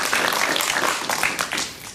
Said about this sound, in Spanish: Esos son aplausos espontáneos, no son inducidos.